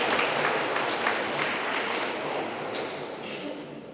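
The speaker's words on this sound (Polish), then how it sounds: "Także wielkie brawa dla Julii za ten konkurs" An audience claps at a National Education Day school ceremony in a secondary school in Radzyń Podlaski, giving a few seconds of dense, steady applause that slowly fades.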